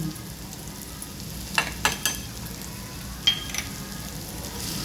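Turmeric and red chili powder sizzle in hot oil while bamboo shoot curry is prepared, a low steady frying hiss with a few sharp scrapes of a spoon stirring in the pan, close and without talk.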